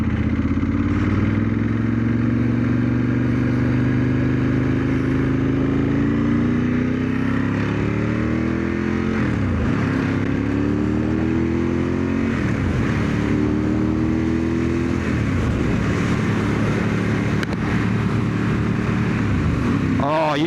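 A Ducati 916 motorcycle engine drones loudly and continuously while riding, its pitch climbing through the revs and dropping at several gear changes, with wind noise underneath.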